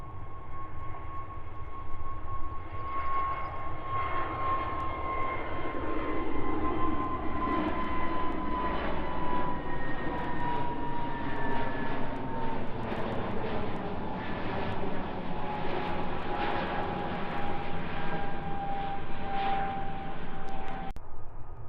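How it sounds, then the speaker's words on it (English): A British Airways Airbus A320 in Better World livery takes off, its steady engine roar rising and sliding in pitch as it climbs away, loud and continuous for about twenty seconds with no talking. "that is British Airways A320 going to London Heathrow"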